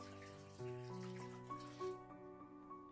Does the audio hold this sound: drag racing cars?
no